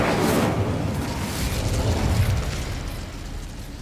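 Incendio fire spell blast in the game Hogwarts Legacy, a loud roaring whoosh of flame that swells early and slowly dies away, close and alone with no speech.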